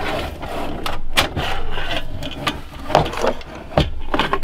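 Plastic and metal case of a Corsair VS650 power supply being pried and pulled apart, a continuous scraping and rubbing with several sharper clicks and snaps, close up and without talk.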